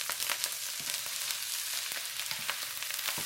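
Salmon fried rice with soy sauce and oyster sauce being stir-fried in a hot pan, a dense steady sizzle broken by regular scraping and tossing strokes, close and continuous.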